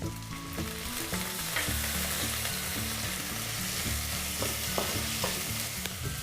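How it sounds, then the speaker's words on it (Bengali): Chopped onion, grated ginger and tomato fry in a pan for a rice and shrimp dish, giving a steady, close, loud sizzle with light stirring clicks throughout and no talking. "দু মিনিট ভেজে নেব।"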